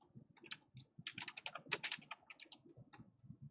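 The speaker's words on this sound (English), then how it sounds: "I'm typing it" Someone types on a computer keyboard in quick, irregular bursts of sharp clicks, close and clear, with a short pause partway through and a soft low rumble underneath.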